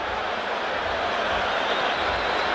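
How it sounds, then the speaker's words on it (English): Stadium crowd at the Orange Bowl during a USA vs. Haiti soccer match makes a loud, steady roar with no clear peaks, heard up close as a dense, unbroken wash of noise. "the noise of the crowd here affecting the players"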